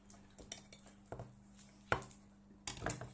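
A kitchen knife cuts cheese in half on a cutting board, giving a few sharp taps and knocks spaced irregularly against a low steady hum, with no talking.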